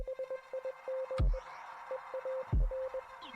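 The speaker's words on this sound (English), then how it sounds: "we hear a bunch of beeps and boops" Morse code beeps from the Archivist encounter in the video game Inscryption: a steady tone keyed in short and long bursts, clear and rhythmic, broken twice by deep low thuds, no voices.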